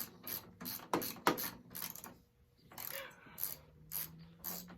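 A hand ratchet loosens a head bolt on a snowblower engine in rapid bursts of faint, close clicking, separated by short pauses.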